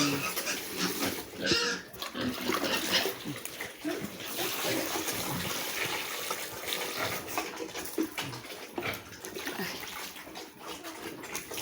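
Pet pigs drinking from a clean water trough, with wet slurping, splashing and snuffling grunts over running water, a voice speaking intermittently nearby.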